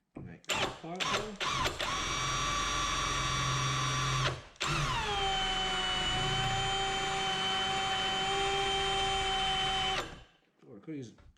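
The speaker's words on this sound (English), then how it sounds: "Oh, I could use a sharper drill bit." Power drill boring a pilot hole in a clamshell part with a dull bit, starting with a few short bursts, then a steady whine that drops in pitch and holds for several seconds before stopping.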